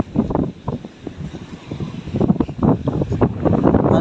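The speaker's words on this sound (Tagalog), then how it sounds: "Lakas ng hangin, tayo, no? Lakas ng hangin." Strong gusts batter the microphone in loud, uneven bursts of low roaring rumble, surging and easing throughout with no other sounds standing out.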